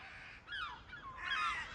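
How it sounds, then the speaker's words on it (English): Crows caw twice in quick succession, harsh and fairly close, with a noisy outdoor background and no talk. "now it's the seagulls. And crows!"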